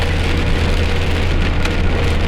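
Heavy rainstorm hammering a moving Gazelle delivery truck on the road, a dense, loud, steady roar of rain on the cab with a low engine hum underneath, continuous throughout.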